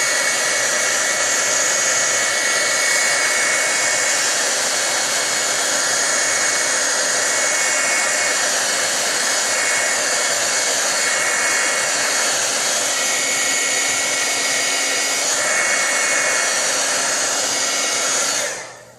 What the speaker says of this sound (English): I'm going to hit it one more time with the heat tool to dry it off so I don't smear anything.